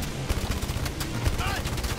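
Rapid gunfire in the VR shooter Blood and Truth, a fast stream of close, sharp shots with a brief whining tone partway through.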